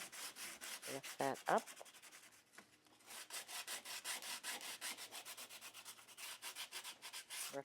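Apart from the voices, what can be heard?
sandpaper roughing up edges of a book cover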